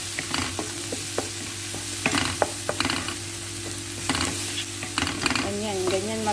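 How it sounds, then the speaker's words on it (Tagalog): Ingredients with turmeric powder sizzle in a pan while being stirred, with intermittent spoon scrapes and clacks over a continuous frying hiss. "Ngayon guys, halo-haloin lang natin."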